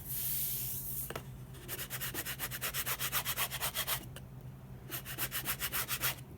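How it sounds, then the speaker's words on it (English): Ruler burnishing glued paper flat on a lap book, a close series of quick rhythmic rubbing strokes back and forth, fairly soft and continuous with brief pauses, no talk. "I'll use my ruler and just burnish it down well"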